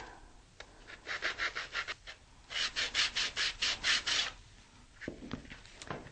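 Sandpaper rubbing the edges of a model rocket part, several quick runs of rhythmic back-and-forth scraping strokes close to the microphone, with short pauses between them.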